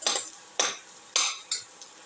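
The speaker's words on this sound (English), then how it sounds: "Keep on sauteing." Egg shells and tomato are sautéed in a pan, with four or five brisk scraping stirs of a utensil against the pan, close and evenly spaced over a faint sizzle.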